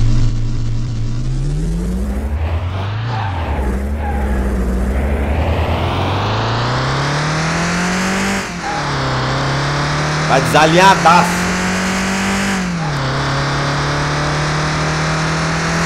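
A restored Ford Escort accelerating hard on a speed track, its engine climbing in pitch through several gears with shift dips between pulls, loud and close from inside the car, with a voice speaking briefly over it.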